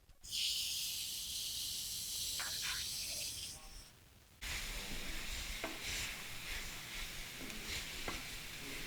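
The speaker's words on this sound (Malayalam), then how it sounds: "നമ്മുടെ പൊടികളൊക്കെ മൂത്തിട്ടുണ്ട് നമുക്കിതാ അതിലേക്ക് തക്കാളി ഇട്ട് കൊടുക്കാം" Tomatoes dropped into a pan of frying spices for crab curry give a loud, steady sizzle and hiss, which dips briefly midway and then flares up again close by.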